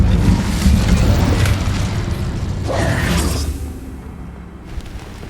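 Incendio fire spell cast in Hogwarts Legacy: a heavy rumbling whoosh of flame that swells, then flares in a short burst before dropping to a quieter roar, with no voices.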